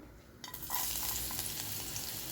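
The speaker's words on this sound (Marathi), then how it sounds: "आता याच्यात सगळ्यात आधी टाकणार आहे मी लसूण" Chopped garlic dropped into hot ghee and oil bursts into a loud, steady sizzle that starts suddenly and keeps frying close up, with no talking.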